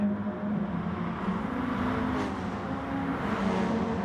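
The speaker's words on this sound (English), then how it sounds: "This car sounds so good, huh? Yeah, definitely. I really like Group 3s. Group 3s sound divine." Group 3 race car engine in a racing video game, a steady loud drone held throughout with slight pitch shifts as it revs, no speech.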